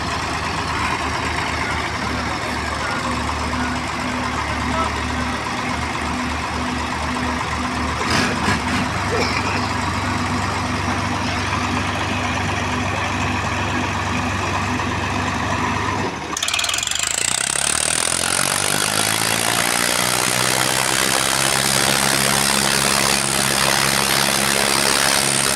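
Heavy diesel engines of Swaraj and Sonalika tractors in a tug of war in Shamli roar loudly and continuously, then abruptly rev higher and strain harder, with a thick, droning mechanical rumble throughout.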